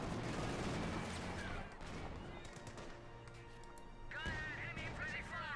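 Vickers machine gun fire in Company of Heroes 2, a dense rattling burst up front that then carries on more faintly under continuous commentary.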